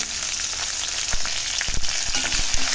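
Onions and curry leaves fry in hot oil while being stirred for radish sambar, a dense close sizzle with a few sharp spoon clinks and scrapes near the end.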